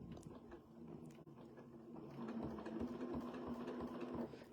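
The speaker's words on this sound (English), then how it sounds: "A little bit of stitching to tack it in." A sewing machine stitching a Breath of Spring quilt, first in a few short stuttering starts, then running steadily with a rapid humming, rattling chatter at close range.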